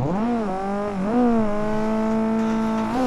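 A car drifting at full max angle on a mountain touge road with traffic in the Assetto Corsa video game, its engine revving in a loud, continuous, buzzy drone that rises and dips in pitch.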